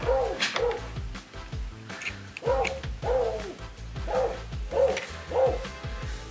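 A dog barks repeatedly in short bursts, fairly near, with uneven gaps between barks over a faint background hum.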